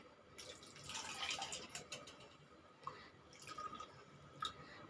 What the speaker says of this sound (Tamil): இப்போ அதே கப்பில் நம்ம தண்ணி விடுவோம்